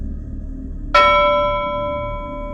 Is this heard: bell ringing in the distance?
yes